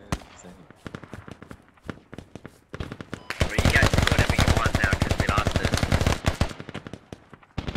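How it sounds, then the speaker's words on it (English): Sustained automatic gunfire in the multiplayer military game Squad, aimed at a BTR armored vehicle: scattered shots at first, then a dense, loud, rapid burst of fire lasting several seconds before tapering off, with no talk. "Oh, looks like our BTR is taking fire there."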